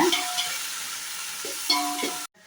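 A handful of chopped mint and coriander leaves sautés in hot oil for Dindigul thalappakatti seeraga samba mutton biryani, an even close sizzle with a couple of stirring scrapes before cutting off abruptly near the end.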